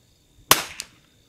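A rimfire target rifle fires one sharp, close shot at a windy outdoor match, followed by a faint echo or second crack.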